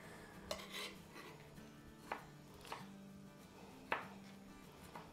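A knife chops medium-sized tomatoes on a board for a boneless mutton karahi, with a handful of sharp, separate cuts spaced over a few seconds against a low kitchen hum.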